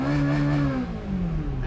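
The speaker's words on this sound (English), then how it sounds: "others simply spend a lot of money just for the sound coming from the exhaust pipe" A Ferrari's exhaust revs loudly and up close, the engine note climbing, briefly dipping, then rising again in a steady, unbroken roar with no talking.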